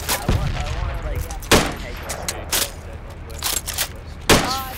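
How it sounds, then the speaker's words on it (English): Rifle fire in the military shooter Project Reality: several sharp, loud gunshots crack out at irregular intervals, each with a short echoing tail, over a low battlefield rumble and occasional faint voices. "This fucking rifle, man, stop shooting."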